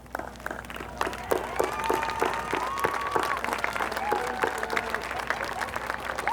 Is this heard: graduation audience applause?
yes